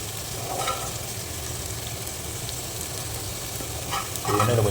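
Potatoes fry in hot oil in a pan, giving a loud, continuous sizzle with a couple of brief stirring scrapes and a surge at the end. No one speaks.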